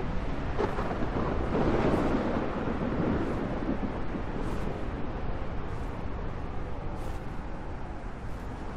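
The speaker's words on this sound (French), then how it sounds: "la tempête de sable, c'est bientôt fini" Roaring sandstorm wind in the Scorched Earth desert of the video game ARK: Survival Ascended, a loud, steady rumbling gale that fades slightly toward the end, with no speech.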